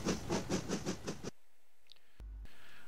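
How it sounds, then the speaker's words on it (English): Heavy train hauled up a yard entrance, with a rhythmic series of about six loud chuffs or clanks that stop abruptly, followed by quiet and a short low thump. "And with that, he shot off down the line, leaving Gary to haul a heavy train up the yard entrance."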